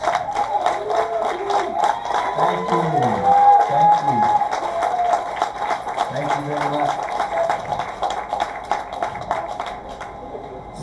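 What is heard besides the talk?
audience applause for veterans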